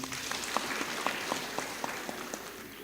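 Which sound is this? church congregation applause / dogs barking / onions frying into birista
church congregation applause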